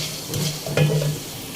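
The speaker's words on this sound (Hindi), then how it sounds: "इस सब चीज़ों को मैं हल्का सा फ्राई करूँगी इस ऑयल में" Bay leaf, cinnamon and whole spices such as black pepper, cloves and cumin fry in oil for chicken korma, giving a close, steady sizzle with a brief stirring clatter midway.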